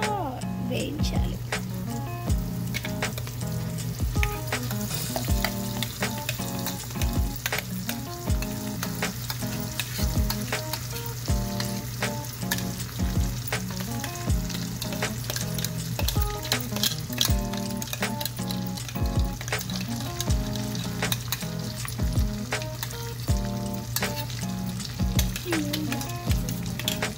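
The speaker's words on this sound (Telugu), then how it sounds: "ఆ మిక్సీ పట్టిన కైమా పేస్ట్ అంతా వేసేసి మళ్ళీ అదంతా వేయించాలి" Keema paste frying with cashews in a pan, a steady loud sizzle with repeated scraping strokes of a spoon stirring it. A continuous low hum runs underneath.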